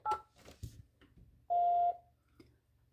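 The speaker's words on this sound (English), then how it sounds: "please press 8 and wait for the beep" A few short telephone keypad tones sound in quick succession, followed by a longer single voicemail beep, all clear against near silence.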